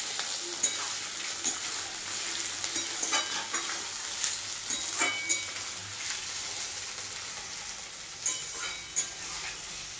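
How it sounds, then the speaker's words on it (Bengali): Chicken sizzles and fries in a pan while a utensil stirs it, with a steady hiss of hot oil and occasional scraping clinks, close and moderately loud, no talk. "আজকে আমি সব হালকা হালকা ভাজছি"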